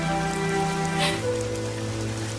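Steady rain pours down in a dense, continuous hiss with no gaps, joined by a sustained low tonal hum and no voices.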